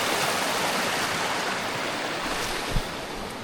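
A river in Scotland rushes steadily in a broad, close wash of flowing water, with no voices over it.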